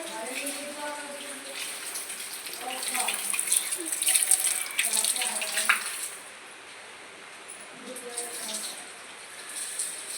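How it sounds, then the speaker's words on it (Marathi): Water runs steadily from a tap while feet are washed outdoors, a soft splashing stream that grows busier for a few seconds and then settles, with voices talking in the background. "आता पाय धुवून घेत आहे"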